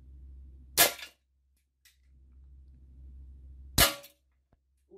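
Two sharp, loud cracks come from an ASG Schofield 6-inch 4.5 mm pellet revolver, spaced about three seconds apart over a low background hum, each followed by a faint clack.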